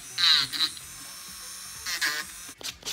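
An electric nail drill buffs acrylic nails in short, high-pitched whirring bursts, two separated passes with a quiet gap between, close and fairly loud.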